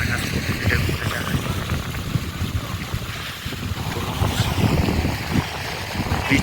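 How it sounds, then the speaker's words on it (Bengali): Strong wind blowing at Zero Point near Gangtok, a steady heavy roar of gusts buffeting the microphone with no pauses. "বড় ভিউ আছে সেটা প্রচণ্ড হাওয়া চালাচ্ছে।"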